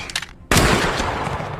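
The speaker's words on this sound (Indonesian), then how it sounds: "kemudian mereka saling adu tembak secara bersamaan" Pistol shots in a close-range duel, a sudden loud burst of gunfire after a brief quiet, followed by a dense rolling blast that carries to the end.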